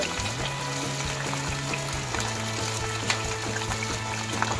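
Green chillies, tomato and brinjal pieces fry in a pan with a quiet, continuous sizzle, scattered small crackles and a low steady hum underneath.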